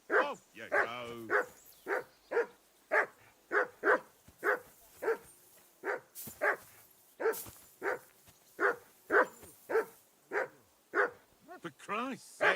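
A dog in Kingdom Come: Deliverance 2 barks in a steady run of loud, evenly spaced woofs close by, about two per second, with brief voices in the game near the start and end.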